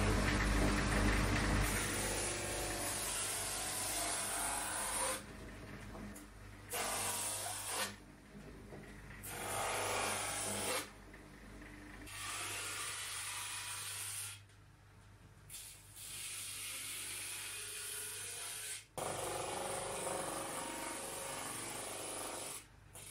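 A rasp files wood on an acoustic guitar body in long, hissing rubbing strokes with short pauses between them, close and steady throughout.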